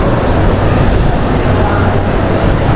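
A light rail train passes close by in a city near a shopping area, a loud, steady, dense rumble and roar that fills the whole moment with no talk.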